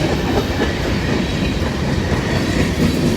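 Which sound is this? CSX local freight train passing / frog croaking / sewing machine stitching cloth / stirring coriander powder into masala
CSX local freight train passing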